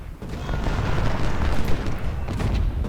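Continuous battle noise from the Civil War strategy game Ultimate General: Civil War, fought at Chickamauga: dense, crackling musket fire and booming artillery stretch unbroken over a heavy, rumbling low end. No voices.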